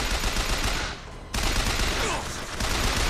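Machine-gun fire in the video game Bioshock Infinite: a loud, dense, continuous burst of rapid shots that briefly drops off near the one-second mark, then resumes just as heavily and keeps going.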